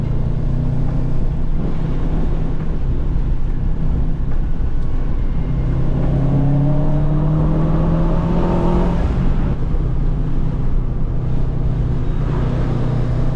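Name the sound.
car with rebuilt engine drifting on track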